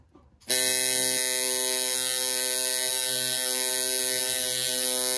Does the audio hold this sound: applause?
no